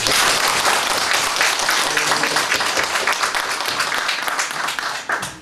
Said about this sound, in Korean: 박수 한번 치죠.